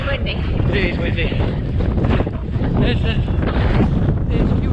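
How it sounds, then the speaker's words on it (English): Strong wind buffets a microphone at a marathon in Sussex, a loud, continuous rumbling roar with gusty surges throughout. "Is it windy? It's windy. It is windy."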